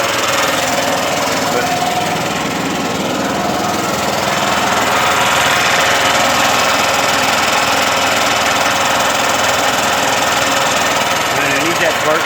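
A Yamaha G9 golf cart engine runs steadily, loud and close, its small engine drone and rattle holding at a constant throttle throughout.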